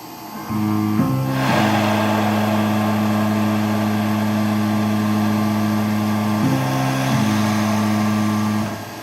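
A CNC drill boring a hole through wood at 1200 RPM: a loud, steady motor whine holding a constant pitch for about eight seconds, with a brief shift near the start and another near the middle.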